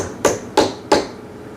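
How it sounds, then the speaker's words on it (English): A toy hammer knocks three times on a kids' wooden tool bench, crisp hollow taps at a steady, even pace, close and with no talk. "You can hammer it if you want."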